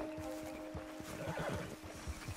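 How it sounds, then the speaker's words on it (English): A horse in the Red Dead Redemption 2 video game snorts and whinnies briefly at moderate volume, with soft hoof movement and low ambient game sound around it. "Shut up, horse. Be quiet."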